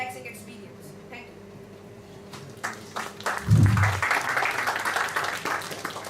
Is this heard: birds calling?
no